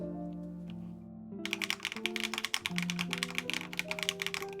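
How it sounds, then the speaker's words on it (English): Someone types on a Minimi40 custom mechanical keyboard held at roughly a ten-degree angle, giving a rapid, dense run of crisp key clicks that begins after a second or so of quiet, with a tonal hum underneath. "This is like typing at a 10-degree typing angle, maybe?"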